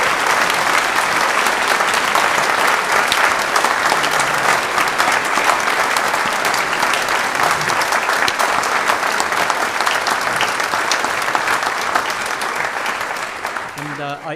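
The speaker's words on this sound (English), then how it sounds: "could we have a round of applause for the entertainment?" Sustained, dense applause from an audience thanking the entertainers at a community tea event, loud and steady throughout before tapering slightly at the end.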